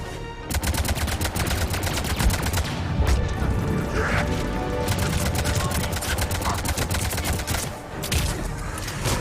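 Rapid automatic gunfire in Mass Effect 3, a loud, close, sustained stream of evenly spaced shots running almost continuously, with brief pauses and heavy battle noise underneath.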